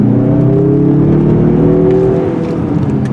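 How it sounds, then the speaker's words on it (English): A 2024 Mazda CX-30 with all-wheel drive accelerates hard from a standstill toward 60 mph, its engine note climbing steadily in a loud, continuous drone heard from inside the cabin, easing slightly near the end. "Let's do a quick 0 to 60 run."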